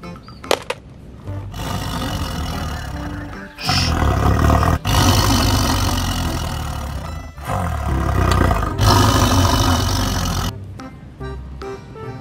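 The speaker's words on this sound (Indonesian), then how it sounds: "Wow, harimau." A plastic tiger toy gives a loud, rasping electronic roar lasting several seconds, repeated in long bursts with brief gaps.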